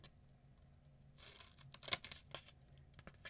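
Adhesive tape being pulled and torn by hand during craft work with foil flocking transfer sheets, a few quiet ripping and crinkling bursts close by, with one sharper snap in the middle and no talk.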